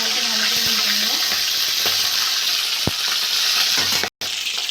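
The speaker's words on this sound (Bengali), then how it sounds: "উল্টে পাল্টে ভালো করে ভেজে নেব" Small rohu (pona) fish pieces fry in hot oil in a pan and get turned over. A steady, loud sizzle runs throughout, with a few sharp utensil clicks and a brief dropout near the end.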